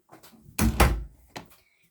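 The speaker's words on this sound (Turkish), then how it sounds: "Şimdi kapıyı kapatabilirim." A door closes indoors with a soft rattle, then a firm double thud as it shuts, followed by a faint latch click close by.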